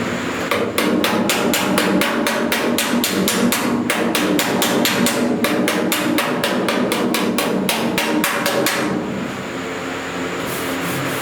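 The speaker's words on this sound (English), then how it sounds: "And just do some basic hammer work real quick" Rapid, rhythmic hammer blows on car body sheet metal against a dolly to work out a dent, sharp close metallic taps repeating steadily for about nine seconds before stopping.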